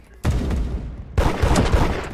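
Gunfire in the Roblox game Da Hood, dense bursts of shots starting abruptly and continuing, with a second louder volley midway, close and busy with overlapping game noise.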